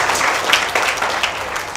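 Audience clapping during a Telugu Sri Sampurna Ramayanam discourse, a short patch of scattered applause from a seated crowd with a few sharper individual claps standing out, moderately loud and without speech.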